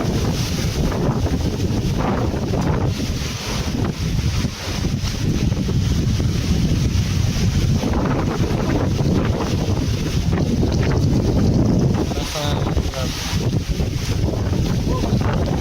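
Strong typhoon wind in Pangasinan, a loud continuous roar buffeting the microphone for the whole span, with faint voices in the background.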